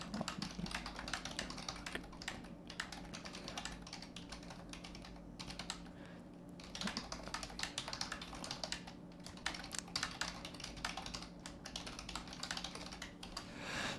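Rapid clicking of keys on a computer keyboard, typed steadily and close up for the whole stretch with brief pauses, quiet and with no talking.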